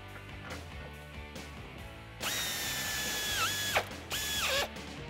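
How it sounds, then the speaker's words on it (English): Quiet shop ambience gives way to a loud, whining power ratchet spinning a socket on bumper bolts under the frame of a 2007-2013 Chevrolet Silverado 1500, running in two or three bursts with pitch dips as it slows. "Next up, we're gonna remove these bolts holding in the bumper underneath the frame."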